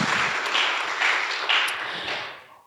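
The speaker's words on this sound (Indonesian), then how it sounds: "kita berikan tepuk tangan dulu untuk kita semua" Audience applause at a discussion event on first-time voters in the 2024 regional election, Indragiri Hulu: steady crowd clapping sustained for about two seconds in waves, then tapering off, with no talk over it.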